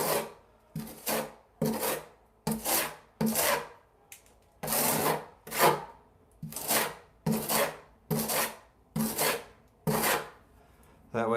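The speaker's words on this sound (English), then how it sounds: "Make sure to always scrape it off." Repeated rasping scrapes of a trowel clearing tile adhesive while tiling a shower wall, about a dozen close, loud strokes in a steady back-and-forth rhythm with brief pauses between, no talking.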